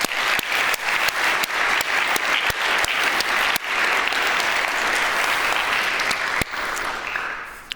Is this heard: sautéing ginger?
no